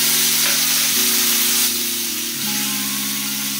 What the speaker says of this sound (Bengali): পেঁয়াজ আর টমেটোটা খানিকক্ষণ ভাজতে হবে